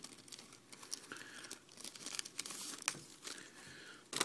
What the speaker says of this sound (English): A little baggie with an instruction sheet and a bio card in it.